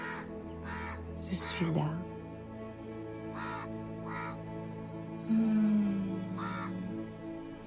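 Crows caw repeatedly around a quiet outdoor field, several distinct calls spaced across the moment, while a calm voice speaks softly over a steady background hum.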